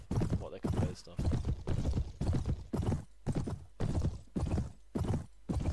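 Horse hooves clip-clop steadily in the video game Clash of Kings, with a quick, regular run of hoof beats heard fairly loud and close throughout.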